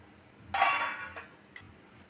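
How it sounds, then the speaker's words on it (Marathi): A lid is lifted off a pan in which thalipeeth cooks over a low gas flame, giving one close metallic clatter and rattle that fades, followed by a faint lighter clink. "आता मी झाकण काढते"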